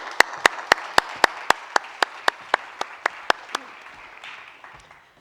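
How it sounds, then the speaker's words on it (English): Slow, evenly spaced hand claps ring out over a broad bed of crowd applause as a keynote speaker is welcomed onstage at a conference in Riga, the clapping thinning toward the end. "Welcome to the stage, and round of applause."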